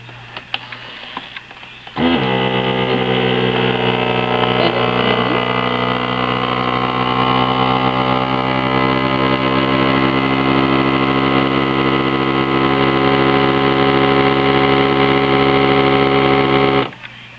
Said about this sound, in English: Now we're gonna hit vacuum and seal on this.